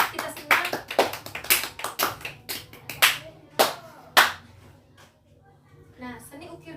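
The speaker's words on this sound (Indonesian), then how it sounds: "tepuk tangan dulu untuk kita semua." A class of students clap their hands during a classroom lesson in an Indonesian school, giving a burst of sharp, rhythmic claps that thin out into a few scattered ones, with a voice heard faintly between them.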